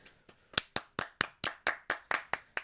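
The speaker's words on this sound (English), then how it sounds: "Can we get some applause for Mommy Nora getting a job?" A small group claps about ten times in a steady, evenly spaced rhythm, each crisp hit close and fairly quiet, with no voices over it.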